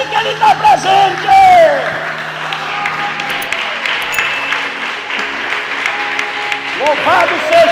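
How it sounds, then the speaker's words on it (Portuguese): Applause from a church congregation during a worship service, a steady wash of clapping mixed with crowd voices and occasional shouts, loud and sustained throughout, with a voice rising briefly near the start and again at the end. "salva de palmas para Ele"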